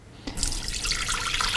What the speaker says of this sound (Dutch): En we doen een 200 gram water erin.